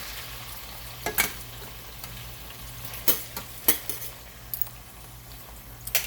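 Potatoes frying in plenty of hot oil in a pan, a steady sizzle broken by sharp clinks and scrapes of a utensil stirring against the pan, close and without talk.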